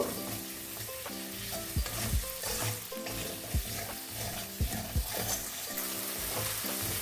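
Tamarind and spices are stirred in a pan while preparing a fish curry with catla, giving a continuous sizzle with rhythmic spatula scrapes and knocks; a low steady hum runs underneath.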